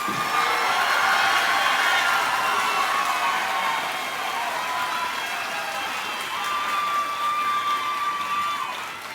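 An audience at a high school graduation ceremony applauds and cheers in a steady, dense wash of clapping that holds for several seconds, with scattered shouts and whistles rising above it.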